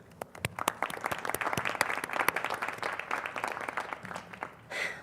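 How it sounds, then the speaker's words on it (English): Graduation convocation audience at a campus ceremony applauding: many crisp individual claps blending into steady applause of moderate volume, fading near the end as a brief other sound cuts in. "So big round of applause to you."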